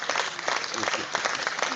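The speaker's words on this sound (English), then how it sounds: "PM deserves a round of applause" A short burst of applause rises from an audience at a live political address, a brief steady patter of many hands at moderate level.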